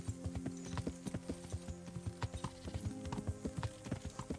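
Hooves of a horse cantering through a medieval town in Kingdom Come: Deliverance, a quick, steady clip-clop rhythm at moderate volume with no talking.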